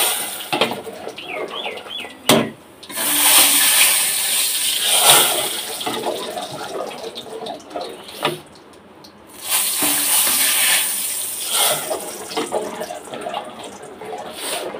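Cooked dal poured from one pot into another, a wet sloshing, splashing stream running in two long bursts with a short break between, close and fairly loud, with no talking.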